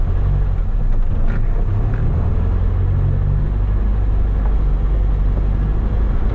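A 1970 Lancia Fulvia's 1.3 liter four-cylinder engine under way on a test drive, a loud steady low rumble of engine and road noise heard from inside the car, no talking.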